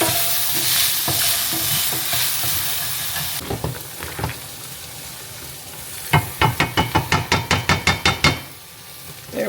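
Smashed potatoes frying in a pan are stirred. A steady hiss runs under scattered clatter, then a fast run of about a dozen sharp scraping strokes near the end, with no talk.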